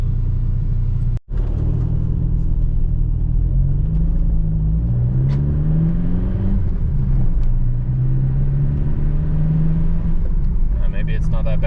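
A Volkswagen TDI 2.0 ALH diesel car with a manual swap and a carbon fiber exhaust stack drives along with a steady low engine rumble. Someone talks over the drone as the engine pitch rises and falls through the gears.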